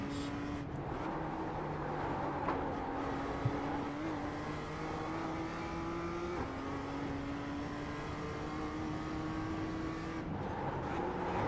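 A Porsche Cup race car in a sim racing game drones at steady engine pitch, with a quick blip and drop in tone as it downshifts, then climbs again and downshifts once more near the end.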